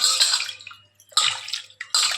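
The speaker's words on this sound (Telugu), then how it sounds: "ఇంకా ఒక 1/2 లీటర్ నీళ్ళు పోసిన" Water poured into a cooking pot on a kitchen stove, coming in two or three close, splashing bursts separated by short pauses.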